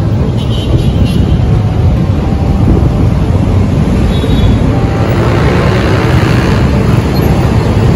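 Heavy road traffic on the way to Pasig market in Metro Manila near the Kalayaan Bridge, a constant loud roar of cars and buses with wind buffeting the microphone, no distinct voices.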